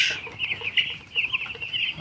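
Broiler chickens on a poultry farm with an automatic drinker system cluck close by in a busy overlapping chorus of short, raspy calls with no talking.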